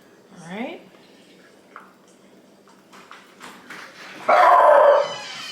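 A household dog barks a few times in a home kitchen during holiday meal prep, the barks brief and moderately loud amid kitchen clatter, with a louder burst of noise near the end.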